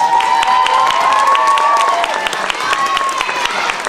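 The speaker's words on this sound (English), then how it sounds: "Give him a big round of applause." Audience at a Halloween dance recital clapping after a children's dance class introduction, a steady wash of applause with scattered cheers and a sustained tone running over the crowd noise.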